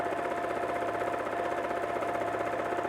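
A sewing machine free-motion quilts a small circle, a steady rapid needle hum running evenly and close throughout, no pauses or talk.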